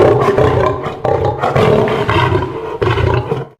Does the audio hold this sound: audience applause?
no